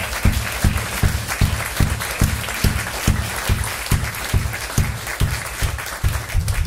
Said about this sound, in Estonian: teeme Leelole ja Sinilinnule ka suur aplausi